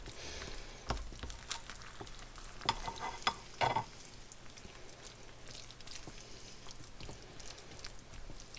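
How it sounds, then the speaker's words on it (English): A spoon stirs a bubbly green bean casserole fresh from the oven, giving soft scraping and squelching bursts over a faint, steady background bubble. "And I'm just going to give it a good stir here."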